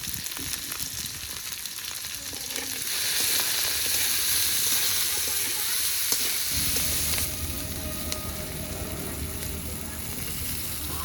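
Potatoes with slit green chillies, salt and turmeric fry in hot oil, a steady close sizzle and crackle that swells louder for a few seconds midway before settling back to a continuous frying hiss.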